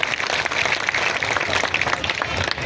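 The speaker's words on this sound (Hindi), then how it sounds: "एक बार ताली बजा के उनका स्वागत कर दिया भाई।" Applause from an audience welcoming a college team at a protest rally and sports gathering, a steady wash of clapping, moderately loud and continuous throughout.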